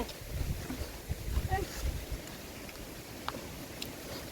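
Cold wind gusting outdoors in open farmland after the rice harvest, a low continuous rumble buffeting the microphone with uneven swells, loudest in the first two seconds and easing slightly afterward.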